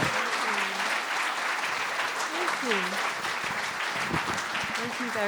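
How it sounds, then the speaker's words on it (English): Audience applause for an author at an evening event in Leicester, a dense, steady roar of clapping throughout, with a few faint voices and vocal sounds mixed into the crowd noise. "Can we have a round of applause for Miriam Gold?"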